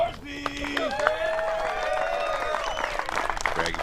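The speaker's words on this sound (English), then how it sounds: "Let's get a big round of applause going for Greg Barsby." Crowd applause and cheering for a disc golf player being introduced on the tee at a final-round state championship event, mixed with voices and a whistle, steady and moderately loud throughout.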